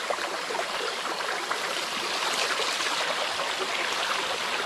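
Irrigation water flows in a steady, close rushing stream with a bright trickling texture, continuous and fairly loud, and no voices are heard over it.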